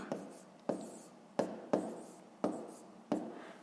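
Numbers written by hand in a school maths exercise: six distinct pen or pencil strokes at a steady pace, each a sharp tap followed by a short scratch, close and quiet.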